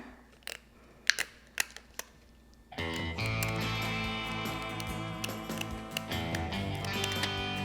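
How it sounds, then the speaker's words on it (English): Sharp, small-tipped Fiskars scissors cut a paper stencil, giving a handful of crisp, close snips with quiet gaps between them before music takes over. "You need a pair of really sharp little tip-in fiskars and just cut it like that."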